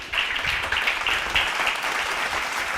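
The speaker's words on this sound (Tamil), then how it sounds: "கைத்தட்டுக்கு வந்து அவருக்கு" An audience claps together in a close, steady burst of applause at a Bible study gathering, sustained throughout with no talking.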